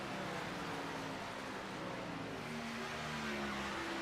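Stock cars racing in a sim racing game, a steady dense engine roar from a pack of cars continuing throughout with no break, loud and constant.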